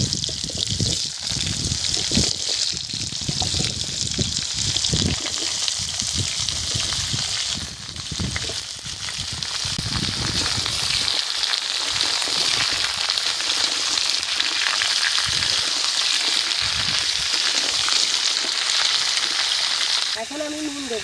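Garden-fresh mixed vegetables with cumin and dried chili frying in hot oil in a pan, a steady dense sizzle running loud and continuous throughout with faint stirring.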